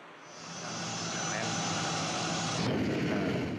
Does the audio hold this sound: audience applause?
no